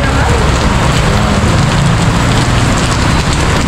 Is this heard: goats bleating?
no